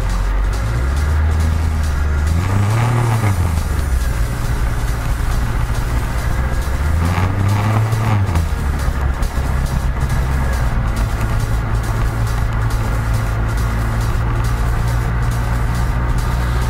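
Dakar rally cars roar past on a rally stage, their engines rising and falling as they sweep by twice amid a constant loud background engine drone.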